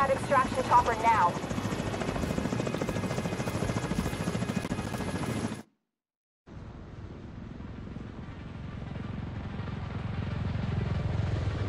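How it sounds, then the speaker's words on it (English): A loud, steady rotor chop and engine buzz from the extraction helicopter in The Division 2, overlapped by talk, cuts out completely for about a second, then returns as a lower, muffled whir. "we need to get Chernenko on that extraction chopper now"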